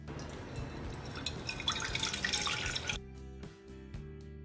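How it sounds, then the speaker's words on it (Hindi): Water poured into a kadhai (wok) while making sweet suji manda pitha, a splashing, trickling stream for about three seconds before stopping, leaving a quieter background hum. "हम यहाँ पे कढ़ाई में 2 कप पानी डालेंगे।"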